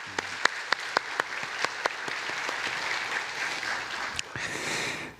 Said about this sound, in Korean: 우리 다 같이 박수로 한번 격려합시다